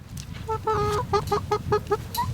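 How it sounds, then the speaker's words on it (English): Molting chickens cluck on a desert farm in hot summer weather, a rapid series of close, rhythmic clucks over a low background rumble. "So in here with our chickens now, you can see they're molting"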